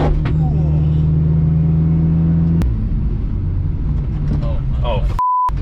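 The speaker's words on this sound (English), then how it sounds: "Dude, this thing sounds great. It is pretty. That turbo spool is awesome." A Mitsubishi Evo wagon engine runs loudly up close, its pitch swelling as it revs, with a turbo whine and flutter before it cuts out abruptly.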